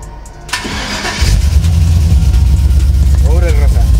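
A 1958 Chevrolet Apache's restored engine cranks briefly, then catches and settles into a loud, steady low rumble that holds to the end, with a voice speaking faintly partway through.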